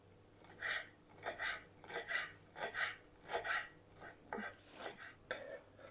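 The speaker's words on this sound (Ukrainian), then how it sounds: "Нарізаємо кріп." Dill being chopped with a knife on a board, a quiet run of about a dozen rhythmic rasping cuts in quick succession.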